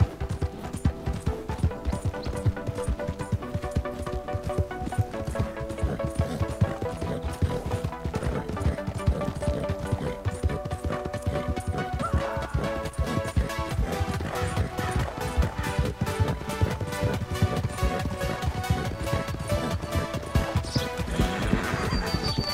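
Hoofbeats from a red Arabian horse being tamed in Red Dead Redemption, a steady clip-clop running throughout over a dense, continuous game soundtrack, with little distinct whinnying standing out.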